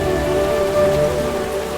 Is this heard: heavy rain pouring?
yes